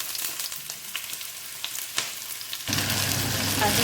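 Chicken drops into a hot pan already frying garlic, onion and ginger, and the faint crackle swells abruptly into a loud, continuous sizzle that holds to the end.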